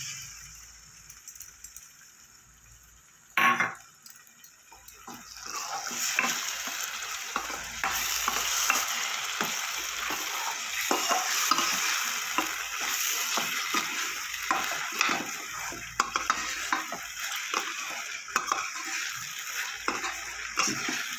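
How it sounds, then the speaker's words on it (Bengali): Spinach paste fries and sizzles in a pan of spiced egg masala, with steady stirring and scraping throughout after a brief clatter as it goes in. "এবার আমি পালং শাকের যে পেস্টটা করেছিলাম সেটা দিয়ে দেবো।"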